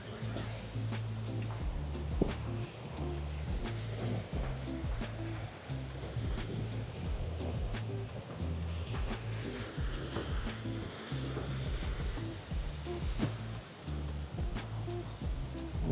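A waterfall rushes steadily in a continuous broadband roar, with wind buffeting the microphone in low thumps throughout.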